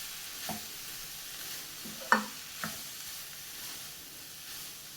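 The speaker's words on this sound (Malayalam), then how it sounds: "മസാല എല്ലാം ഈ സോയ ചങ്കിൽ പിടിക്കുന്നത് പോലെ നല്ലതുപോലെ ഇളക്കി മിക്സ് ചെയ്യാം" A spoon stirs masala-coated soya chunks around a pan in a few separate scrapes and clinks over a faint background sizzle, with no talking.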